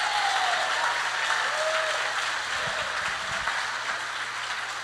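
A church congregation gives sustained, loud applause, a thick, even roar of many hands clapping that continues throughout with only slight easing toward the end.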